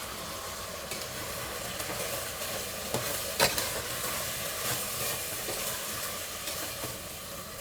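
Rice with coriander and mint being stirred in a pot for coconut-milk rice, a steady soft scraping and faint sizzle going on throughout, with one brief clink in the middle.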